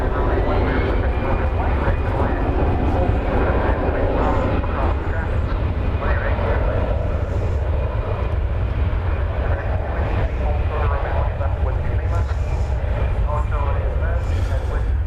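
A Boeing 787-9 Dreamliner arriving from Seoul at Dallas Fort Worth produces a continuous, steady engine rumble and roar, with someone talking over it at intervals.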